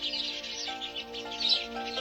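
House sparrow chirping, a busy run of quick, overlapping chirps over a steady tonal background, fairly close and continuous with small bursts of emphasis.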